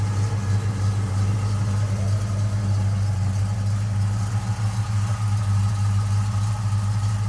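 A 1971 Oldsmobile Cutlass's 350 engine with headers and a mild cam idles steadily, a low, even rumble holding constant throughout with no voices.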